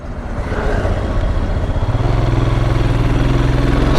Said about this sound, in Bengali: ইঞ্জিন স্টার্ট আছে এখনো, ইঞ্জিন বন্ধ করিনি।